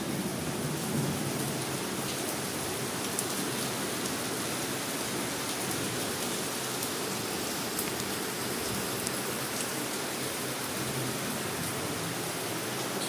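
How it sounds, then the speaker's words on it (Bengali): Heavy torrential rain pours outside, a constant dense wash of falling water heard from indoors at moderate level without any talking. "বাইরে হচ্ছে মুষলধারে বৃষ্টি হচ্ছে।"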